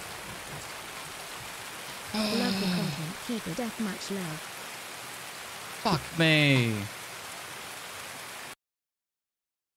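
Steady rain hisses as a continuous wash behind a gaming session, with two bursts of someone talking over it.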